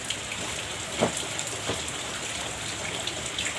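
Steady drizzling rain falls in a continuous, even hiss with a few slightly louder splashes, filling the background evenly with no voices.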